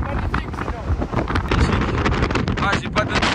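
Strong gusting wind roars across the microphone on a snowy winter mountain pass near Pic d'Ayous in the Pyrenees, a loud, continuous rumble with buffeting bursts throughout and no clear speech.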